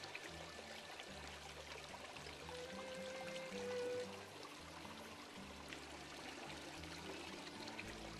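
Water trickling and pouring steadily in a continuous wash from a garden stream, soft and moderately distant, with no voices.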